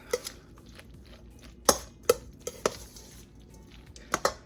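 Pepper and onion powder are stirred into macaroni in a bowl. A utensil scrapes and clinks against the dish several times, with sharp irregular knocks spread through a quiet kitchen.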